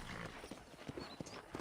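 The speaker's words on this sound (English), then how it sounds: "I picked out a fine horse for you." Horse hooves clip-clop in Red Dead Redemption, a quiet, uneven run of soft hoof knocks under low background sound, with no talk.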